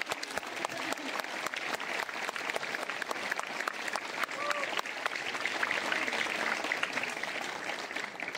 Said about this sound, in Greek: Ένα μεγάλο χειροκρότημα για τους πρωταγωνιστές της σημερινής εκδήλωσης